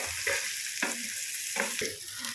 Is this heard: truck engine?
no